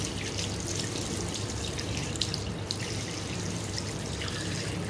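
Water runs steadily from a tap into a sink for face washing, a close, continuous splashing rush with no pauses.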